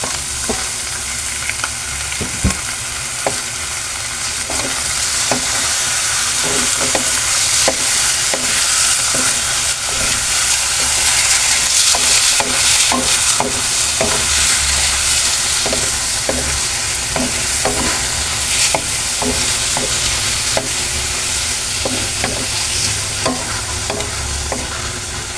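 Chicken liver and gizzard sizzle steadily in a hot pan while being stir-fried for adobo, with a constant loud frying hiss broken by frequent clicks and scrapes of the spatula, no voices.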